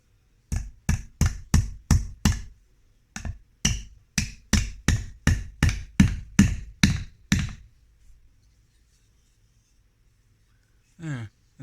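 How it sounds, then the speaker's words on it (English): Nail hammered into a wooden beehive frame while building a 20-frame beehive: a close, loud series of about fifteen sharp, evenly spaced blows in two runs, then a pause and a faint brief voice at the end. "I'm just going to put the nail in now."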